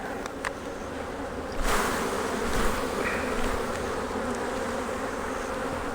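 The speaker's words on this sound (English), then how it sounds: "I don't want to take these bees over there." Dense, continuous buzzing of many honey bees close by during a hive inspection, a steady drone with a few brief knocks and rustles.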